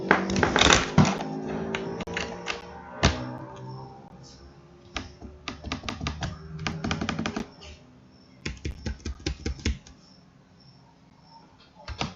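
Rapid clicking keystrokes on a computer keyboard come in uneven bursts and pauses, fairly close and clear, with only faint room sound between the taps.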